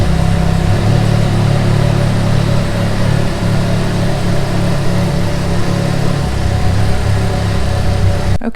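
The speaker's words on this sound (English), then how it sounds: "Let me go ahead and turn my bike on so I can show y'all." A Can-Am Ryker three-wheeled motorcycle engine idles with a loud, steady low rumble that holds constant and close throughout before cutting off at the very end.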